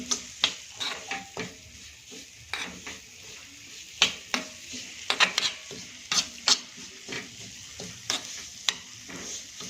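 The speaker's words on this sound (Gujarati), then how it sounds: "ધીમા તાપે આપણે સૂજીને શેકી લઈશું।" Semolina roasting in a pan over low heat for a Diwali sweet, stirred with a spoon that gives repeated sharp scrapes and taps against the pan under a faint dry sizzle, close and fairly quiet, with no talk.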